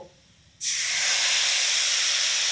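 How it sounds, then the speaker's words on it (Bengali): A little water poured onto chili powder and cumin powder in a hot pan, setting off a sudden loud, sustained steamy hiss after a brief quiet moment. "খুব সামান্য করে একটুখানি জল দিয়ে দেব"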